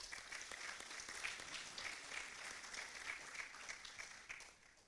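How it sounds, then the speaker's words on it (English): Applause for the president at an African architecture students' congress fills a large hall, a dense and fairly even wash of many hands clapping that holds steady for several seconds before tapering off at the end. "So a round of applause to our president as well."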